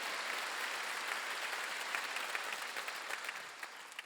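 A church congregation at a Wednesday worship service claps together, a soft, distant, diffuse wash of many hands that holds steady and then grows slightly crisper toward the end, with no voices over it.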